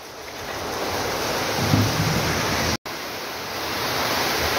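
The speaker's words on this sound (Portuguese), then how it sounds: "Começou um pé d'água aqui" A heavy afternoon downpour sets in outdoors during carnival, a dense, steady wash of rain hiss that holds loud and unbroken apart from one momentary dropout.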